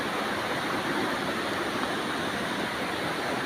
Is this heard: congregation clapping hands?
no